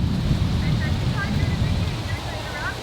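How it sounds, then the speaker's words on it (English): Wind buffets outside a camper van, a steady low roar of gusts rumbling against the microphone throughout, with faint voices murmuring underneath. "It's windy."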